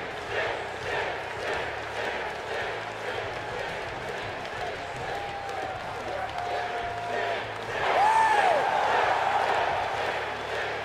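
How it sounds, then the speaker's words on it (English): WWE 2K22 wrestling game crowd noise, a loud continuous arena roar with chanting throughout and a brief high wailing voice taunt for Sting near the end as the crowd swells. "voice taunts and crowd chants"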